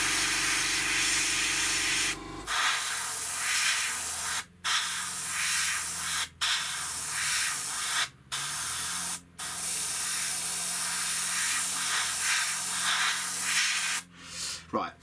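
Aerosol primer sprayed onto a 1/32 Hasegawa FW190 D-9 model aircraft, heard as long close hissing bursts broken by several brief pauses, with faint talk underneath.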